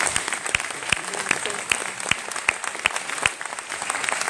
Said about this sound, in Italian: Un applauso a Cristina Zaccanti.